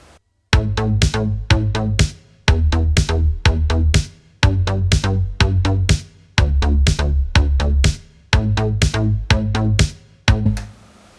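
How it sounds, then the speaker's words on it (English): Synthesizer arpeggiator bass line locked to a house-style drum machine pattern, pulsing repeated bass notes riding under sharp percussive hits in a steady loop, loud and continuous. "the arpeggiator bass line would follow it, and it would sound something like this."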